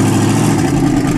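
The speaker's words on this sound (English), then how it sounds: "so it's idling at 1000 RPMs" A Dodge Ram truck engine with a big cam and twin turbos idles at about 1000 RPM, a loud, close, steady rumble with a rough lopey pulse and no pauses.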